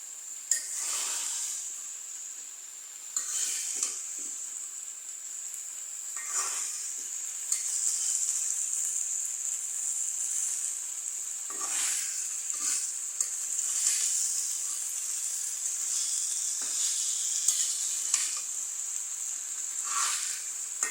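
Okra fries in a pan with a steady, bright sizzling hiss throughout, broken by occasional soft stirring scrapes, with no voices.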